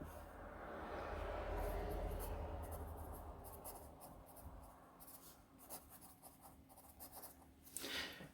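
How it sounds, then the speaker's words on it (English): A Staples No. 2 premium wood pencil is held at a steep oblique angle while laying down graphite, giving soft scratchy strokes that move from a continuous rub into short separate scrapes. The sound is quiet and close, with no talking. "Writing at a really oblique angle and hard to hold the pencil in that."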